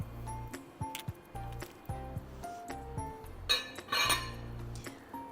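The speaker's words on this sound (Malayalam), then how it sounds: "നമുക്ക് പെട്ടെന്ന് തിളയ്ക്കാൻ വേണ്ടി ഇതിനെ അങ്ങ് മൂടി വയ്ക്കാം" A metal lid goes onto a pot of water heating on a stove, giving several close clinks and clatters of metal on metal in an irregular run, with no talk.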